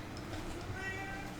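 A hungry cat meows faintly, a short mewing cry set against a soft, steady background hum.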